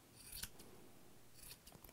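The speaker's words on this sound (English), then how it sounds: "then you take your scissors and you just give it a little trimmy trim" Scissors snip at a yarn pom pom, a couple of close, crisp cuts heard alone over quiet room tone, with faint light rustling between them.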